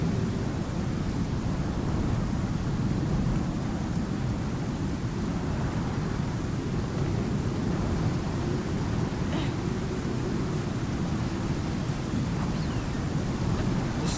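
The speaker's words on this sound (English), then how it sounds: "That could have been the storm." Storm raging in the survival game Icarus: a steady, dense rumble of rain and wind with deep thunder rolling continuously underneath, loud and enveloping throughout.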